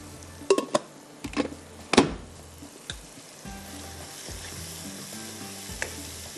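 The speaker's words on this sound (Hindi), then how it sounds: "थोड़ा सा इसको हम इस तरह से भूनेंगे" Onion, ground tomato and masala frying in a pan for chicken masala, with sharp spoon scrapes and knocks against the pan early on, then a low continuous sizzle with occasional stirring, no speech.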